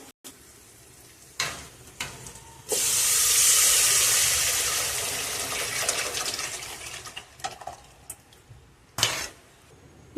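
Mixed fish curry gravy for a koduva fish dish is poured into frying garlic and onion, setting off a loud sudden sizzle and bubbling that slowly fades, framed by stirring clatters of a utensil against the pan.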